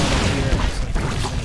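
Banshees in StarCraft firing on a spore crawler, a short burst of deep booming shots and impacts packed into a continuous loud rumble.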